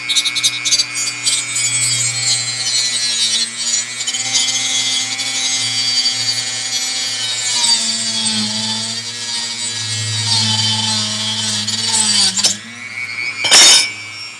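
A hand saw cutting through the metal second slide of a homemade retractable hidden blade, a continuous rasping, grinding stroke sound up close, ending with a sharp burst of scraping near the finish.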